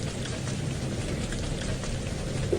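Heavy hail and rain pelt down during a thunderstorm in an animated children's cartoon, a dense, steady hiss of falling drops close by and continuous throughout.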